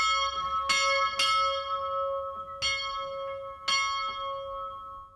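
A church bell rings out at a village church, five or six loud clanging strokes with long ringing decay, spaced unevenly and heard alone without talk.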